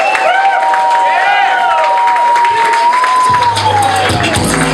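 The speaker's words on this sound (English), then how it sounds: "let's give a round of applause." Crowd cheering and applause at a corporate New Year kickoff event for an energy company, with whoops and shouts rising over steady clapping, loud and close throughout, a voice cutting through near the end.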